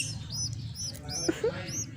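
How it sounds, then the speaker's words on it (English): A glossy starling kept as a young pet bird gives repeated high, bright chirps at roughly regular intervals, close by, over a low background hum with a couple of soft knocks. "And this is my Galansyang bird."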